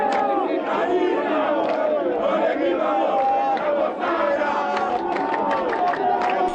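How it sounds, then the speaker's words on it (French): A dense crowd lining the road near the newly built Matete bridge in Kinshasa chants a slogan for President Kabila, a loud, sustained roar of many voices with rhythmic shouting throughout. "la foule confiante de son président scande le slogan"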